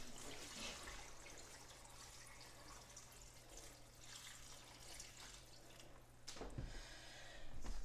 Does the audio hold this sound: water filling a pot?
yes